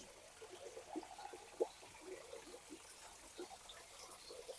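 A faint, steady trickle of water from a small front-yard garden waterfall with small splashes and drips, quiet and continuous at a modest distance.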